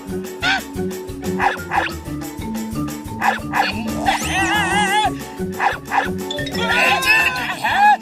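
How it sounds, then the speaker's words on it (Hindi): Wild dogs in a Motu Patlu cartoon bark, yip and snarl rapidly while attacking, with a frantic cartoon soundtrack and overlapping voices shouting beneath them. "अब जॉन को जंगली कुत्ते काटेंगे"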